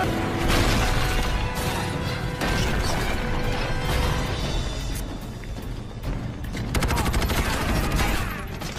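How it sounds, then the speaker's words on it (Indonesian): Gunfire from an action scene in The Expendables film: dense bursts of automatic weapons fire and crashing impacts, loud and continuous, with a rapid machine-gun rattle near the end and a busy soundtrack underneath. "Tim The Expendables pun terus menyerang musuh dan terus menembaki mereka dan mencoba masuk ke dalam ruangan."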